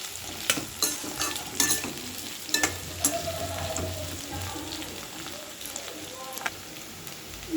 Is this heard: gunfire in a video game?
no